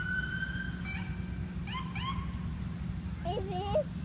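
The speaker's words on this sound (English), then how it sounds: "Ambulance." An ambulance siren passes at a distance, its rising and falling wail faint over a steady low outdoor rumble, with a voice and a few bird-like chirps nearby.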